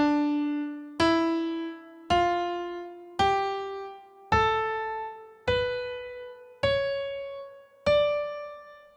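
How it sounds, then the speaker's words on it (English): A melodic minor scale is played one note at a time on a piano-like instrument, eight evenly spaced notes climbing in pitch, each ringing and fading, clear and close with no voices. "This is the sound of a melodic minor scale."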